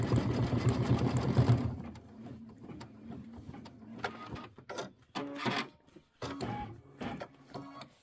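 An embroidery-capable sewing machine stitching a Kimberbell Christmas quilt block, a brief steady whir at first, then short bursts of rapid mechanical stitching with pauses between, fairly quiet and close, no voices.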